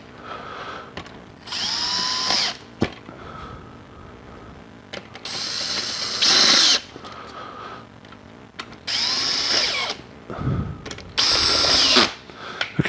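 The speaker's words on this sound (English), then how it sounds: "I realised with this drill that I can just go down, I just pull the head down" A power drill tightening a drum head whirs in four separate bursts of a second or two each, with clicks and clunks in the quiet gaps between.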